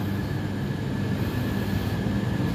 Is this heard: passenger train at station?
yes